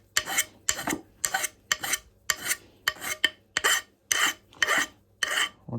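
Juuma No 4 bench plane chamfering wooden edges and corners, about a dozen sharp rasping strokes in a quick regular rhythm, each a short close shaving swish separated by brief silences, no voices.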